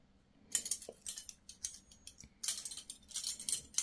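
A metal cutlery set of knife, fork and spoon being handled indoors, giving light clinks and scraping jingles that come in short bursts, close and fairly quiet, with a brief silence at the start.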